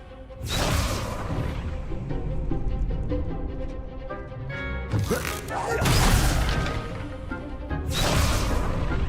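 Confringo blasting spells fired in Hogwarts Legacy, a series of loud booming bursts with whooshing tails around one, five, six and eight seconds over steady game sound and a voice calling out.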